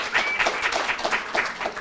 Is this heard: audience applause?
yes